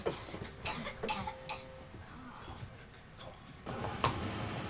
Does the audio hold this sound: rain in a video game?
no